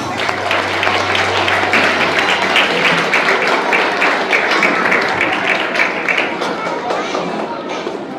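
An audience at a Teachers Day celebration bursts into loud, sustained applause to welcome a speaker, dense clapping that fades slightly toward the end.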